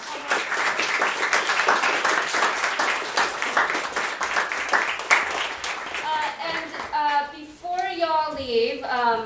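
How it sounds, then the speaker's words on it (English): Audience claps for the speakers at a small tech conference, a dense burst of clapping that fades as a voice starts talking over it. "Let's give all of the speakers a big round of applause."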